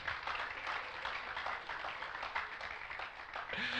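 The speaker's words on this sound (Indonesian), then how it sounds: "Tepuk tangan buat Tuhan." A church congregation claps together, a continuous moderately loud patter of many hands that holds steady for a few seconds.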